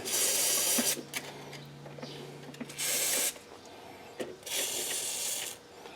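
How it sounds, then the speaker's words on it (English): Lubricant is sprayed in several hissing bursts onto loosened bolts while replacing a rear trailing arm on a 1999 Chrysler 300M, close and loud, separated by short pauses with small mechanical clicks between sprays. "I got them all run out, at least a ½ an inch, and I'm going to spray them again."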